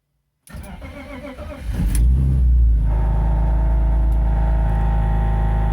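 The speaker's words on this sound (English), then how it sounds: "before trying to start the engine with the idle control valve deleted" A BMW E46 with its idle control valve deleted and aftermarket headers cranks over with the starter whirring, catches with a rising roar, then settles into a loud, steady idle heard up close.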